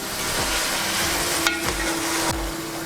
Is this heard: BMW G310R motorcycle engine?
no